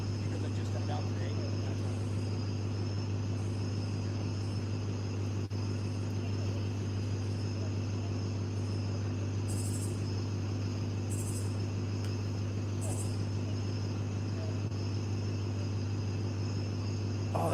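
Loud crickets chirp in a continuous, shimmering drone that stays unbroken throughout, layered over a steady low hum, with occasional brighter bursts of insect noise drifting in and out.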